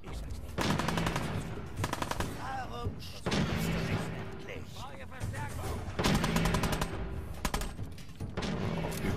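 Bursts of gunfire in Fallout 4 against raiders, loud repeated rifle and automatic-pistol shots in clusters with game effects between them, a voice talking at times over the fight.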